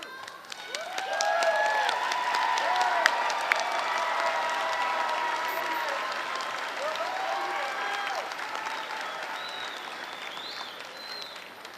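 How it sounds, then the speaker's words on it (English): A standing audience at the Jeffersonville High School Class of 2023 graduation in Indiana gives a sustained round of applause, dense clapping filling a large space, with scattered cheers and a few shouts rising above it. "would you please stand up to give a round of applause?"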